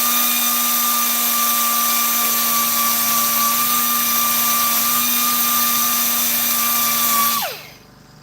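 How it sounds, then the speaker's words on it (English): Power sanding pad smoothing grinding scratches on a custom e-bike hub, a steady high whine running for about seven seconds before spinning down abruptly. "Removing the scratches left by the grinding pad, sanding pad."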